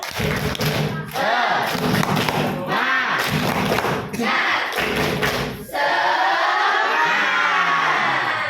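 A classroom of students doing a rhythmic spirit clap in loud, repeated bursts of clapping and chanting voices, with heavy thuds between the beats; a sustained group shout closes it.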